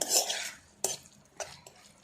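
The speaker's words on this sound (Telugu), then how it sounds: "అందుకనే నేను స్పూన్తో కలుపుతున్నాను" Mutton pickle being mixed with a spoon, a few separate metallic scrapes and clinks against the vessel, quiet and close, with short pauses between strokes.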